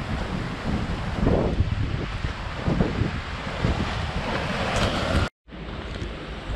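Sea waves wash against a rocky shore, a constant broad roar of surf mixed with wind buffeting the microphone, with a brief dropout near the end.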